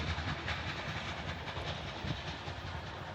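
A CSX grain freight train rolls past on the tracks, a steady, loud rumble with hissing, steam-like wheel and rail noise that holds throughout without any talk.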